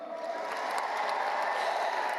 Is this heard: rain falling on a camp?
no